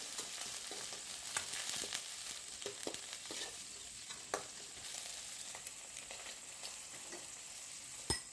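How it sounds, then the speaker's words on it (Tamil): Onions, with tomato and curry leaves, sauté quietly in a pan for fried rice. A faint, continuous sizzle is broken by occasional soft scrapes and taps of a stirring spoon. "வெங்காயம் வதங்கிட்டு இருக்கட்டும்."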